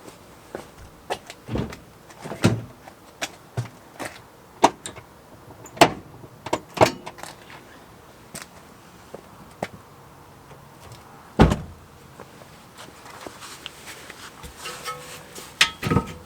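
The handbrake is released on a Honda Fit during rear brake pad and rotor work, giving scattered mechanical clicks, clunks and ratcheting knocks at irregular intervals, close by, with quiet workshop ambience between them.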